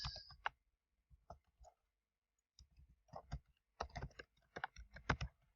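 Sparse bursts of clicking keystrokes on a computer keyboard, typing a file name in short quiet runs separated by pauses, close and alone.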